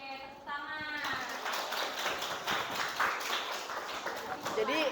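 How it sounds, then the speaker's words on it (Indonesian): Classroom applause for a student's answer in a school economics lesson: a sustained patter of many hands clapping at moderate loudness, running steadily for several seconds with some voices mixed in. "Oke, tepuk tangan."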